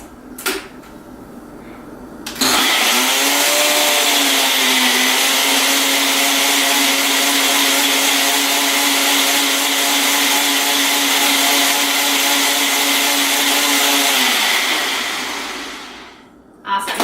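A blender whirs up to a loud, steady high-pitched drone as it purees strawberries for fruit leather, runs for about twelve seconds and then winds down, after a few clicks and knocks as the lid and blade are set.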